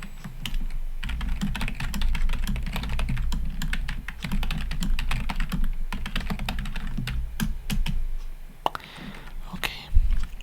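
Close, steady computer keyboard typing with crisp, irregular clicks in quick bursts over a soft low hum, quiet and intimate, with no talking.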